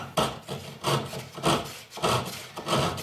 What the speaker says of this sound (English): It's very sharp, so it does cut quite well. And it's extremely narrow kerf saw.